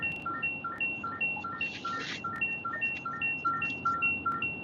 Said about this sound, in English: It's my seatbelt yelling at me.